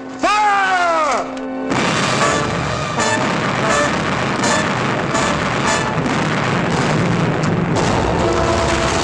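Heavy ship cannon fire in a 1952 period sea-battle film, with a sharp opening tone followed by a loud, sustained roar of booming shots and rumbling blasts over several seconds, with shouted voices around it.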